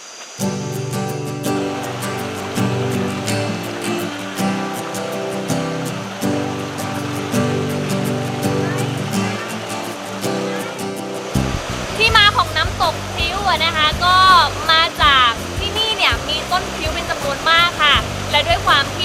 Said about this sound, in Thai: เป็นน้ำตกที่อยู่ท่ามกลางธรรมชาตินะคะ